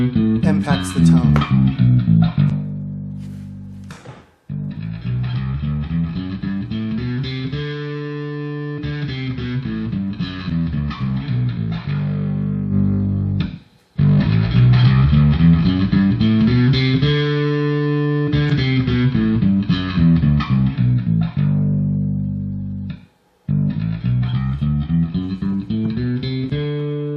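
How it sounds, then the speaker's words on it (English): Bass guitar played through a Tech 21 VT Bass 500 amp with a distorted tone, looping sustained riffs with gliding notes and gritty overdrive, loud and close, broken by brief pauses. "adjusting the volume on the looper pedal causes distortion to ring in and ring out"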